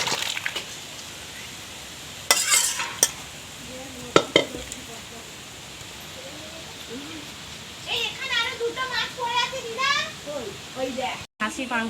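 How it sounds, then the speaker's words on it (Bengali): A home-style mutton curry is stirred in a pan, with a few sharp scrapes and knocks of the spoon over a soft sizzle, while voices talk through the latter part. "এবার আমি নাড়িয়ে নেব।"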